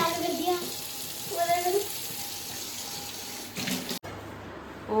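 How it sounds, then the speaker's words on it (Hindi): A tap runs steadily into a sink in a home, a constant rushing stream under voices that include a child's, before it is cut off near the end. "फ्रेंड ने वापस पानी चालू कर दिया।"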